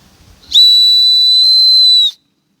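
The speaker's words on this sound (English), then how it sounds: "But this is a very tiny whistle." A very tiny plastic whistle from a replica Swiss Army knife, blown once in a single loud, steady, shrill tone lasting about one and a half seconds, close by with no talk.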